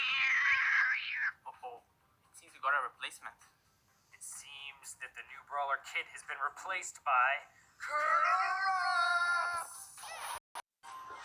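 A cat meows in the Brawl Stars video game, with a string of close, clear mewing and chirping calls separated by short gaps, alongside bursts of talk.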